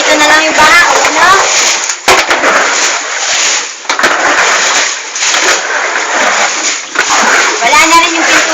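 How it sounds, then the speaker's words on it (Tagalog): Loud, close splashing and churning of floodwater inside a flooded house, continuous with choppy surges, while voices including someone talk and shout over it. "Dana, Jong, andito na lang yung baha."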